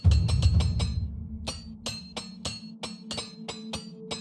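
A burst of bright metallic clinks, then a series of sharp ringing taps spaced irregularly, with glassy chimes, as a repair hammer breaks in The Elder Scrolls IV: Oblivion Remastered.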